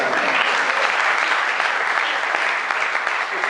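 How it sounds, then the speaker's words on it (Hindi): Audience applause at a Hindi kavi sammelan poetry performance, a dense, steady wash of clapping from many hands throughout, loud and close with no voice over it. "आपने बहुत ध्यान से सुना, तालियां बजाते रहे।"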